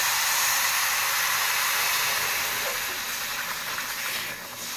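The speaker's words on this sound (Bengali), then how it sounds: "হয়ে গেছে ভাজা, এখন আমি পানি দিলাম" Water poured into a hot pan of fried semolina and sugar bursts into a loud, dense hiss of steam and sizzling that holds strong for several seconds, then begins to ease off near the end.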